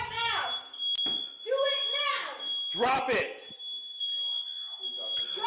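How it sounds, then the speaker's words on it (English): A smoke alarm in a room filled with gun smoke sounds a continuous high-pitched electronic tone through the whole moment, while people shout and talk loudly over it. "Oh, the fucking fire alarm."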